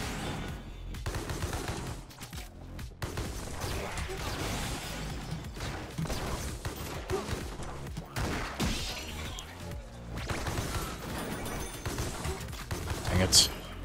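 Gunfire with ricochets in the anime-style FPS roguelite Mullet Mad Jack, a dense continuous barrage of shots and mechanical clatter with frequent sharp impacts, voices occasionally audible over the mix.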